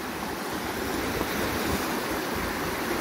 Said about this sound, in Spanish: no me di cuenta que el río estaba bajando agua